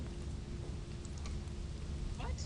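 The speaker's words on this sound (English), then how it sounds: "Why is it raining?" Steady rain falls in a video game, a dense, even hiss with a low rumble underneath and no break for its short length.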